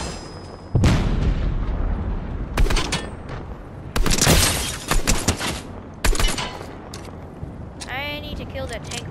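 Heavy cannon blasts and gunfire from a tank in Fortnite: several loud, booming bursts in separate clusters, with voices talking in between.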